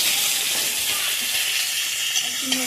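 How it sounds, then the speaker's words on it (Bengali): White cumin, dried red chili and bay leaf sizzle in hot oil, a steady close hiss that stays even throughout, with a couple of faint clinks near the end. "তেলেই দিয়ে দিলাম সাদা জিরে ফোড়ন শুকনো লঙ্কা আর তেজপাতা"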